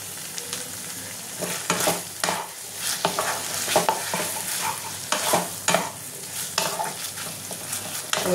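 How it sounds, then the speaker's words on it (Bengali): Potato and capsicum sautéing with green chili sauce in a pan, a close continuous sizzle broken by repeated rhythmic stirring scrapes and clinks. "একটুখানি এটা আমি কষিয়ে নেবো"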